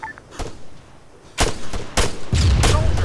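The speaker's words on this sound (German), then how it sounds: "da schlagen schon Granaten ein" Grenades slam down in a military combat video game, a sharp blast followed by several heavy, booming impacts at irregular intervals, loud and close with a rumbling tail.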